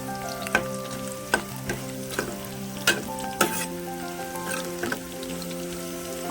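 Bitter gourd pieces fry in oil in a pan for pickle, a busy close sizzle broken by regular stirring scrapes and clinks about once a second, with no talking.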